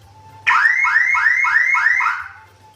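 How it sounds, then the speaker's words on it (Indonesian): A car alarm siren wired onto a Yamaha Aerox motorbike bursts on loudly and close, sweeping through about five rapid rising warbles before cutting off, alone with a faint steady hum beneath. "jika terhubung di connect di positifnya, toanya akan bunyi seperti ini"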